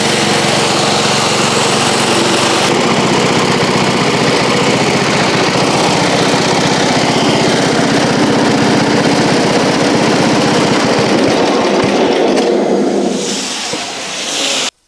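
A lawn mower engine runs loud and steady at close range with a continuous high buzzing drone. It shifts slightly in tone partway through and then tapers off near the end, with no talking.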